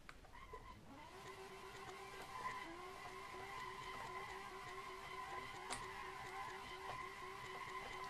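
A Tofaş car drifts along a mountain road in the racing game Assetto Corsa, with a sustained tire screech and engine drone that hold steadily for several seconds and stay fairly quiet throughout.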